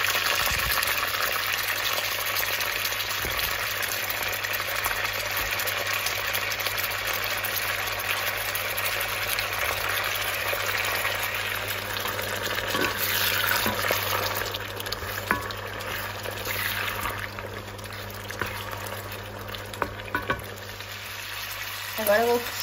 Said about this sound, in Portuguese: E agora vamos fritar as lulas que já estão limpas